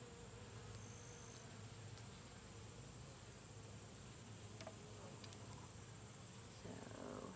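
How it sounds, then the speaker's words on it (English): A cicada calls during a honeybee hive inspection, its continuous buzzing drone steady and fairly faint throughout, with bees and outdoor background under it. "there's a freaking cicada yelling at us right now"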